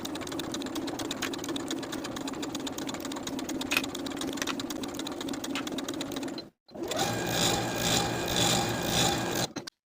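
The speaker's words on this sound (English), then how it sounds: "Top stitch along both long edges from top to bottom." A sewing machine runs steadily as it topstitches the long edges of a colorblock pants strip, a close, fast, even whir that pauses briefly, then resumes at a brighter, busier pitch before stopping.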